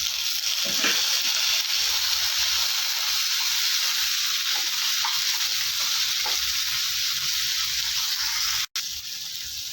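One large tomato sizzles in a pan with onion and garlic for a vegetable chutney, a close, steady, hissing fry with occasional stirring knocks.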